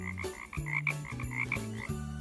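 A frog croaks in a quick series of throaty, buzzing calls, rhythmic and close, each croak overlapping the next with no voices.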